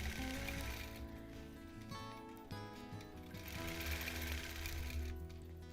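A quilting machine stitches a Double Wedding Ring quilt topper, a steady continuous mechanical hum with fast rhythmic needle chatter running the whole time, loud and close with no pauses.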